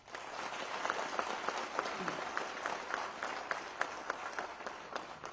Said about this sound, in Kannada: ಅವ್ರಿಗೊಂದು ದೊಡ್ಡ ಚಪ್ಪಾಳೆ